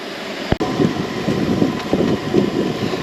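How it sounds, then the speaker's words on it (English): Strong wind blows across a Jeep campsite, rumbling and buffeting the microphone in uneven gusts after a brief sharp knock near the start. "This wind is crazy though."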